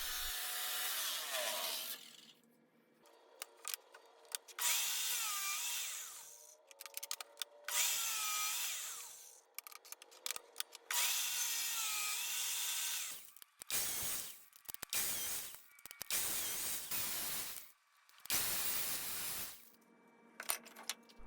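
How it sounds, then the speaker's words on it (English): A bandsaw ripping scrap wood into random strips, its steady whine and cutting rasp loud and close in long passes, separated by quieter gaps where the blade runs free or stops. "Next thing, I'm gonna start cutting it into strips, random strips"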